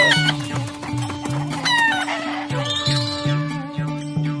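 A chicken clucks repeatedly in a steady pulsing rhythm, with a rooster-like crow and other bird calls layered over a constant tonal background, loud and close in an animated village scene.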